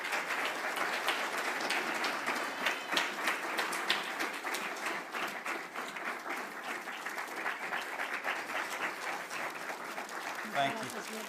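A church congregation at a thanksgiving service claps warmly in a steady, moderately distant patter that carries on for several seconds, with a voice briefly rising near the end.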